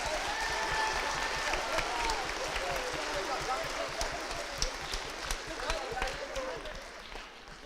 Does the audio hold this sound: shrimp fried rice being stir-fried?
no